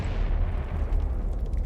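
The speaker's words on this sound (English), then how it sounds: "rocked by a hydrogen explosion similar to that in Unit 1" The hydrogen explosion at Fukushima reactor Unit 3 comes across as a loud, deep rumbling boom that roars continuously through the short span.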